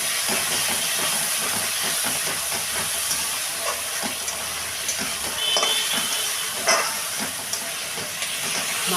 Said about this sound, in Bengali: আর এই মশলাটা তোমার দিয়ে দিচ্ছি।